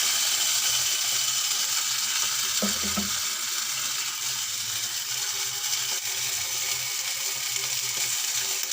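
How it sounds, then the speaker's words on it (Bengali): Water poured onto fried onions in a pan, giving a steady, continuous hiss and sizzle throughout, with a brief clatter near the start. It sounds close and fairly loud, with no talking. "পেঁয়াজ ভাজা হয়ে গেছে, একটু পরিমাণ মতো পানি দিলাম"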